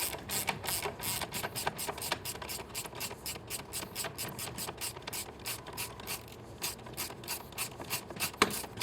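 A ratchet with an 8 mm Allen socket clicks in a rapid, steady run of ratcheting strokes while tightening a motorcycle exhaust bolt on a Triumph Street, close and alone with no talking.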